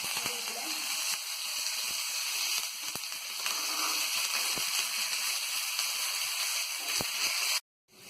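Chana dal, ginger and curry leaves crackling in hot oil while tempering for curd rice, a dense, steady close-up sizzle with sharp pops and spatters throughout, ending abruptly; no talking.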